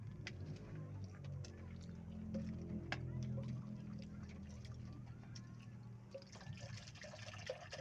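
Faint trickle of water being poured into a container, quiet and close, with light clinks and a soft background hum.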